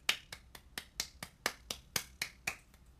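About a dozen sharp, evenly spaced hand claps, quick and slightly uneven like a monkey clapping, close and fairly quiet with no talk.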